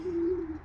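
A single short, low coo from a pigeon at a loft, heard close and alone against a quiet background.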